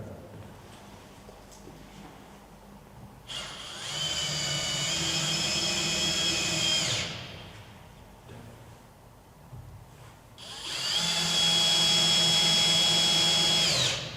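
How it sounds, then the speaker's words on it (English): A power screwdriver whirs loudly twice, driving screws into a door striking plate, each burst running a few seconds with a rising, straining pitch, separated by a quieter pause. "The striking plate is also secured with 2 screws."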